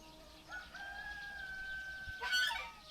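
A rooster crows once in a Chinese village: a loud, drawn-out call rising and holding for over a second, then breaking off into a ragged, strained finish, with no talking around it.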